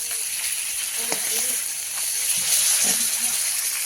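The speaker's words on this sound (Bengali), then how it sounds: "কড়ায় আবারও মাছ ভাজা চলছে" Fish frying in a wok gives a steady broadband sizzle throughout, with faint voices or clatter briefly underneath.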